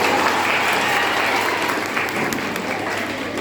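Students at a meeting clap for a girl, a steady, dense round of applause from a sizeable group that holds at an even level throughout.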